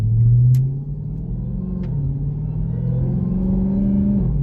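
A Dodge Hellcat fitted with a JLT intake rumbles through a revving run, a deep steady engine drone that swells and eases, heard fairly loud without voices.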